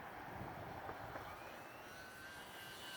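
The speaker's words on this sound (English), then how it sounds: "That is a sweet little plane." A P-47D UMX remote-control model airplane flies in windy conditions, its small motor giving a steady faint buzz under continuous wind noise.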